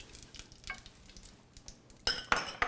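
Food sizzles softly in hot olive oil with faint crackles, then a couple of louder clinks and scraping stirs of a utensil against the pan.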